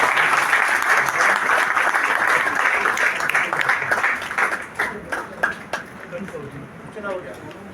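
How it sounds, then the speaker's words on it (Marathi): A crowd applauds child performers at a Shivotsav celebration, dense loud clapping that tapers into scattered individual claps, with a voice speaking over it. "आणि खरं त्या बाल ह्यांच्यासाठी जरा जोराजोरात टाळ्या झाल्या पाहिजे."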